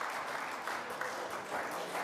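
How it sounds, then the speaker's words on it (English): Audience applause fills a pool hall during the last-eight match of a national 8-ball tournament, a steady wash of many hands clapping at moderate distance, continuous for about two seconds with no voices over it. "So there's a bit of clapping in the background."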